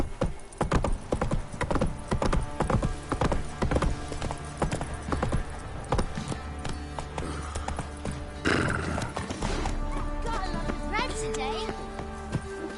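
Geralt's horse Roach from the video game Witcher 3 runs with loud, close, rhythmic hoofbeats, then gives a whinny near the middle, with game voices speaking over the hooves.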